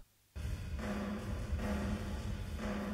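A pop punk drum kit drenched in Waves R-Verb reverb plays a steady groove of kick, snare and cymbals, the hits washing together into a dense, roomy sound after a short silent start.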